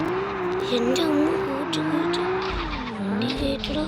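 A Toyota Supra MK4 in the mobile game Car Parking Multiplayer revs with a wavering, rising and falling engine tone while its tires squeal, all loud and continuous.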